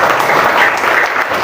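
Applause breaks out at an SDN Kelayan Timur 2 primary school gathering, a dense, steady wash of many hands clapping loudly and continuously with a faint murmur of voices underneath.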